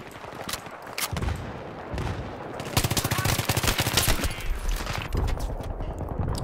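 Powerful gun in Battlefield 3 fired in rapid bursts, loud close reports building into sustained automatic fire, with someone speaking over parts of it.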